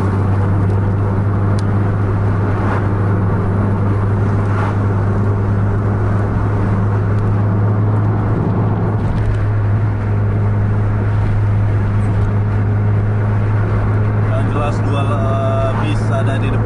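A coach bus racing at top speed on the road near the Aceh–North Sumatra border, its loud, steady engine drone and road rumble running continuously throughout, with people talking over it.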